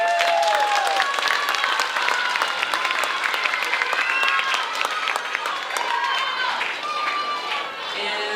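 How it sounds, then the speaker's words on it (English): Applause from an audience at an elementary school music concert, a continuous dense wash of clapping and cheering from a large crowd in a hall that fades slightly toward the end. "So let's give them a huge round of applause for all their effort."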